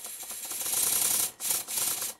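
A Stuart Double 10 model steam engine runs with a rapid, hissy mechanical chuffing, its steady patter briefly cutting out twice before resuming, heard close and fairly quiet.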